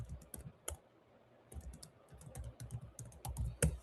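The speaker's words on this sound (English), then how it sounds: "I'm typing" Quick bursts of computer keyboard typing, clustered keystrokes in uneven runs with a short pause partway, crisp and fairly close in a quiet room.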